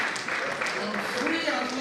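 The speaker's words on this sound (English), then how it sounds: "please a round of applause for our speaker" An audience claps in a round of applause at a commission strategy retreat for heads of service. The clapping is steady and fairly loud, with voices mixed in throughout.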